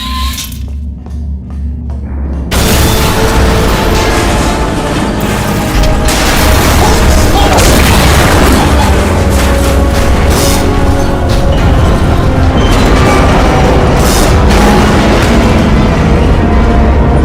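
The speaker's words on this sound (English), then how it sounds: "That explosion blew the whole toxic goo pump station apart." A toxic goo pump station in the video game Portal Stories: Mel blows apart: a sudden loud blast gives way to a long, dense rumble of crashing debris and rushing flood water, with metallic clanks and glassy shatters.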